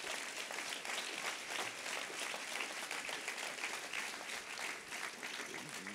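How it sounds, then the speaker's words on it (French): A large audience gives President Sarkozy sustained applause at Les Rencontres de l'Avenir 2024, a dense, steady roar of clapping that runs loud and even through the whole stretch with no voices rising above it. "Et je vous demande encore une fois d'applaudir le président Sarkozy."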